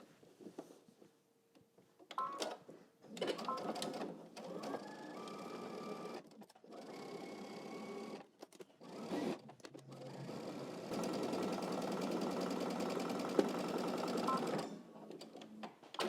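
A sewing machine stitches a pocket and back stitches at the end, running in bursts of rapid, buzzy motor whirring with brief stops, then a long steady stretch near and moderately loud, with no talking.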